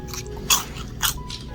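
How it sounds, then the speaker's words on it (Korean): Crunchy deep-fried chicken skin served at a sushi restaurant, bitten twice in close succession, each bite a sharp crisp crunch, with soft chewing in between and no talking. "바삭한 식감도 좋아서 맛있게 잘 먹었습니다"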